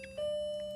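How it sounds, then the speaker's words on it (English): Single clock chime rings as a steady sustained tone, faint and somewhat distant in a quiet room, alone without talk. "let the clock finish before I start playing this"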